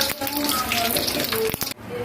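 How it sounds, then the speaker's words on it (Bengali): Dal tipped into hot oil that already holds dried red chillies and mustard seeds, giving a loud, steady hiss and splashy sizzle for nearly two seconds before it cuts off abruptly. "এই যে এখন আমি এই ডালগুলোকে ঢেলে দিব।"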